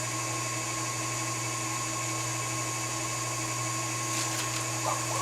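An electric mixer whirs steadily through banana bread batter, a constant motorized drone with a couple of faint clinks near the end and no talking.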